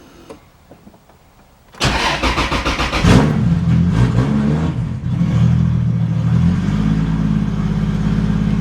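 A cold car engine with no idle valve cranks and catches after a quiet stretch, then roars loudly as it is given gas, settling into a rough, steady running rumble close by.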